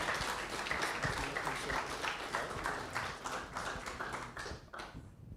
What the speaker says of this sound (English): Let's give a round of applause for everybody who asked questions.